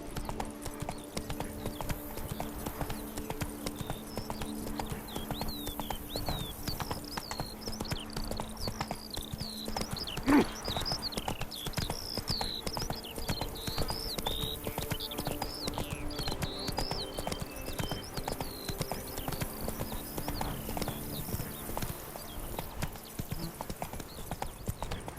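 Hooves of Roach, a horse in The Witcher 3 video game, clip-clop steadily at an even walking rhythm, close and continuous. Other game sounds run faintly beneath, with one brief louder knock near the middle.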